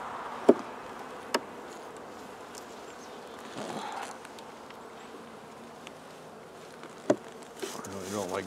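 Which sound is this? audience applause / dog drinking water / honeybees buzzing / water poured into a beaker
honeybees buzzing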